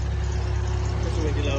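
A car engine fresh from an oil change, filled with SAE 50 oil and an engine stabilizer, runs steadily with a low, even rumble, close and continuous for a short stretch.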